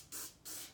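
Two short hissing bursts of aerosol spray aimed at a bug, close but fairly quiet, each lasting a fraction of a second with a brief gap between.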